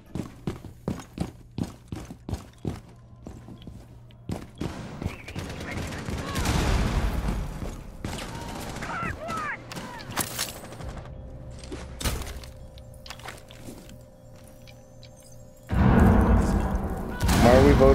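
Gunfire in a Rainbow Six Siege match: a rapid run of sharp, separate shots, then longer stretches of heavy firing and a loud burst at the end, with people talking over parts of it.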